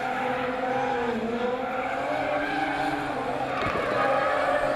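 Drift car during D1NZ Pro-Sport qualifying at Wellington, a loud engine rising and falling through a gear change with tire squeal and skidding mixed in, close and continuous.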